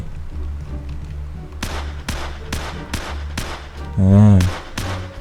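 Several sharp gunshots in modded GTA San Andreas ring out at an even, spaced rhythm, loud and close, with a brief deep booming burst near the end.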